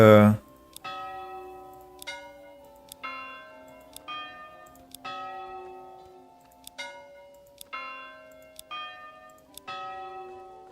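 A church bell in the medieval city-building game Manor Lords tolls in a slow, steady series of resonant strikes about a second apart, each ringing clearly and fading into the next over near silence.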